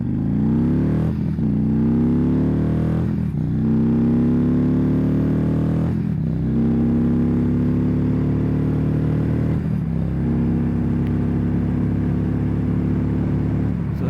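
An Indian Roadmaster motorcycle with a 111 engine accelerating hard toward 100, its loud, steady engine drone rising in pitch through each gear, broken by four brief dips at the shifts.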